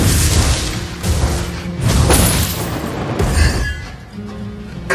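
Explosions and fiery blasts in the mobile video game Mobile Legends: Bang Bang, heavy booming bursts and whooshes recurring across the clip, loud and dense with layered game effects and no speech.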